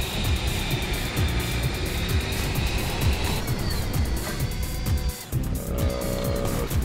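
A speedboat-style vehicle in the Main Assembly building game drives at speed, giving a steady loud engine roar with rapid pulsing texture and shifting whine, a brief dip near the end, then continuing.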